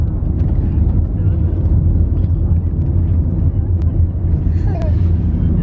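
A family car being driven with a mother at the wheel, giving a steady low engine and road rumble that runs continuously inside the cabin, with a voice and adult chatter over the top.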